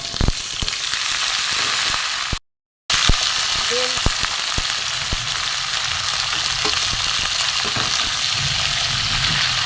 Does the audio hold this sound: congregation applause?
no